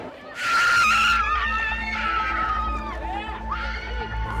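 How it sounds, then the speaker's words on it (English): Women scream amid a crowd while people are held by police at a Belarus detention scene, a loud high shriek opening the scene, then further overlapping cries and raised voices over a constant low rumble. "people are screaming, women are screaming"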